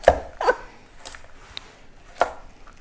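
A knife chops carrots on a board with a few sharp, close knocks spaced irregularly, loud first strokes, then lighter taps.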